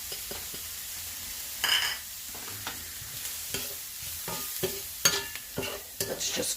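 Hungarian sweet paprika and four chopped garlic cloves sizzling in a pan, a steady frying hiss broken by repeated scraping stirs and a few utensil knocks against the pan.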